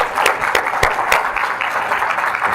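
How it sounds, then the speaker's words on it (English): Audience applause at a pre-launch event in Las Vegas, a steady wash of clapping from a crowd with a few sharper claps standing out, loud and continuous throughout. "Round of applause for Mr. Rod Furtado."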